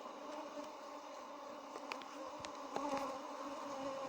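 A dense, steady drone of many bees hums at an open hive with drone cells, a soft continuous buzz with individual insects passing closer now and then.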